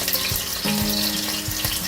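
Chicken sizzles steadily in a hot pan, a close crackling hiss with a brief tonal clatter partway through.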